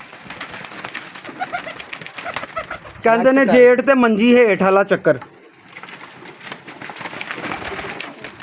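Pigeons at a pigeon keeper's loft coo in a close, loud burst of warbling calls lasting about two seconds, framed by someone talking before and after.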